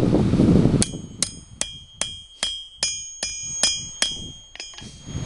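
Steel bar hammered into a bend while shaping a fire steel: about a dozen sharp, ringing metallic strikes at a steady pace, each decaying briefly, close and loud after an initial rumble.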